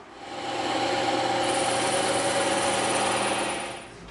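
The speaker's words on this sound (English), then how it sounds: "we're gonna cut these two little areas out as well on the bandsaw" A bandsaw cutting EVA foam gives a steady mid-pitched mechanical hum with a faint whine, rising in and fading out over a few seconds, close and without talk.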